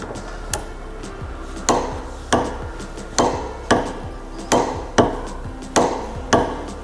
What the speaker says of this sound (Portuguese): Esse estalo significa que a gente chegou no torque correto.